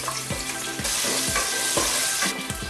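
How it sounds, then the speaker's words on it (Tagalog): Garlic sautéing in a hot pan gives a steady close sizzle and crackle, with repeated scraping strokes of a spatula stirring it at a slow, regular pace. "I-add na din natin yung garlic at gisahin ng mga 30 seconds"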